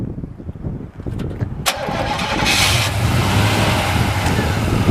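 A 1990 Chevrolet 454 SS truck's big-block engine cranks briefly, catches and settles into a loud, steady idle that holds close and alone after the start.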